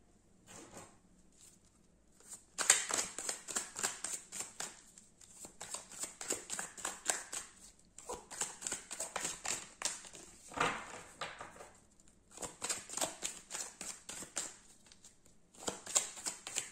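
Oracle cards shuffled by hand for an advice card reading, a run of quick riffling flutters repeating in bursts with short pauses between them, close and fairly quiet.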